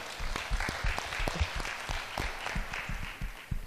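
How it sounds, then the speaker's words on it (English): Moderate clapping from an audience at a leadership talk, a steady patter of hands at fairly low level with a few louder claps standing out. "Give them a good round of applause for being diligent in their work"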